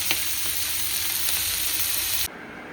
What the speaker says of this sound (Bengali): এখানে কাঁকরোল ভাজা বসিয়ে দিয়েছি